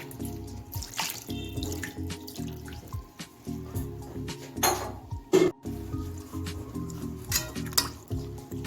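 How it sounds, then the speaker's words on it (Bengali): Chhena, a fresh cottage cheese, is rinsed under tap water, giving intermittent splashing and gushing bursts with drips between them, moderately close and with no talking. "এখন আমি একটু নর্মাল জল দিয়ে ছানাটা ধুয়ে নিচ্ছি"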